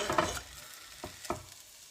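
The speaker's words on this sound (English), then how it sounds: "my sausages are all chopped nicely. What I'm just going to add them to the pan." Chopped sausages hit an oiled pan on gentle heat and sizzle, with a burst of crackling followed by two short, distinct spits and a low, steady background fizz, close and fairly quiet.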